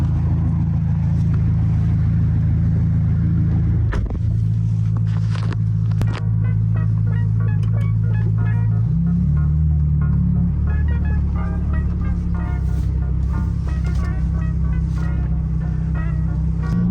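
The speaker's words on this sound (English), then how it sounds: "So now let's go on our first test drive and see how this beautiful car drives." A rebuilt 2022 Ferrari Roma drives on a test run, a loud steady engine drone filling the cabin with a gear change partway through and no talking.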